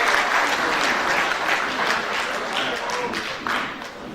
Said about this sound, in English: a round of applause for all these people